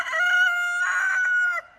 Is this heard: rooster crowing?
yes